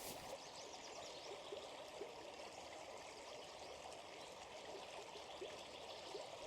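A river stream flows steadily beside a woodland path, a continuous close trickling and rushing of water with no pauses, moderately loud and heard alone.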